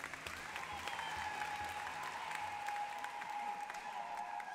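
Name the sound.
audience applause in church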